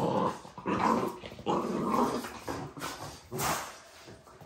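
Puppy growling in short rumbling bursts during a tug-of-war game, close and fairly loud, with brief pauses between growls and shakes.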